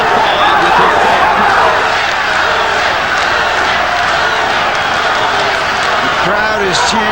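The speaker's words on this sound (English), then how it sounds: "Crowd is chanting Rahman, Rahman." Loud, rowdy arena crowd at a Lewis versus Rahman boxing match, with cheering, shouts and clapping that swell together into a sustained roar.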